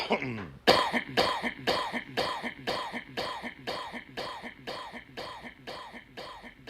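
A person coughing in a long unbroken series of regular, evenly spaced harsh coughs, close and loud, about two per second, repeating like a loop.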